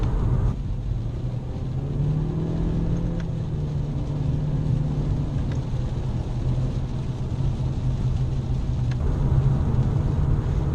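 2017 Honda Civic with a CVT driving along, its engine a low, steady hum at constant revs under road rumble, fairly quiet and unchanging throughout.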